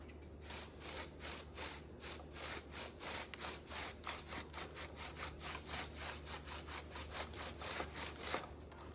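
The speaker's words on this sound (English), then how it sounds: "Gonna get very little on the brush, dab it off, and then just kind of start going on it like this" A nearly dry paint brush dabs and scrubs paint onto a thrifted woven basket for a weathered look, making quick, rhythmic scratchy strokes on the wicker, faint but steady throughout with no talking.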